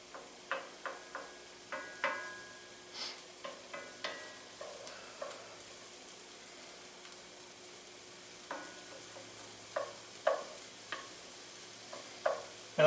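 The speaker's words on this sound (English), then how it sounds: "I hear it sizzling." A Reuben pastry cooks in butter in a new pan, giving a faint, quiet sizzle broken up by scattered light clicks and taps from stirring, with no voices.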